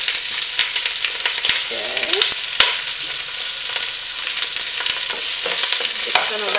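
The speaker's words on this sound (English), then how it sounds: "Let that cook until the onions are starting to get caramelized" Onions frying in a pot for tomato soup, a loud, continuous bright sizzle up close with occasional sharp spoon clicks and stirring scrapes, no voices.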